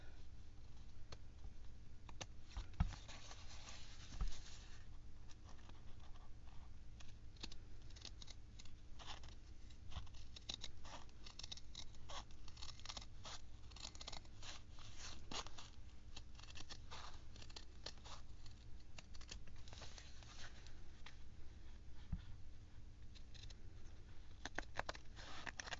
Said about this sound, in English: But just make sure you use nice, sharp scissors.